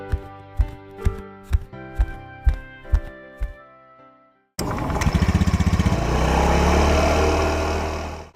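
A Honda Vario motor scooter engine roars to life after a run of sharp, evenly spaced knocks, then holds a loud, steady running drone close by.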